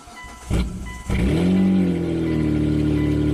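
A Hyundai with a stalling fault turns over briefly, then catches and fires up, settling into a loud, steady idle hum close by.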